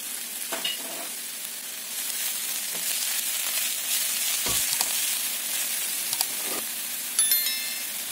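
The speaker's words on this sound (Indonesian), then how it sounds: "aduk sampai harum. Lalu masukkan irisan daun bawang." Garlic, onion and sliced spring onions stir-frying in a hot pan, a steady bright sizzle with repeated scraping taps of the spatula, close and continuous with no talking.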